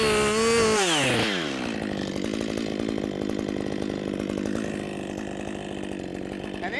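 A chainsaw roars loud and close as it bites into a tree being felled, its engine pitch dropping under load and then holding a steady, buzzing cut.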